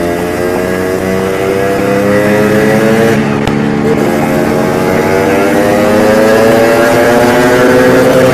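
A snowmobile engine runs loud and close under throttle, holding a strong droning roar whose pitch climbs steadily as it accelerates, with no voices.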